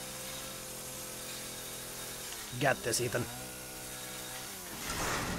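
Brief chainsaw cut in the video game Resident Evil 7, a short buzzing rasp of about half a second amid a steady droning game soundtrack, with a voice speaking just before.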